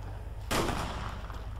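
A single sharp gunshot in the DayZ survival game lands as one loud, sudden crack with a short decaying tail over a low steady hum, with no voices.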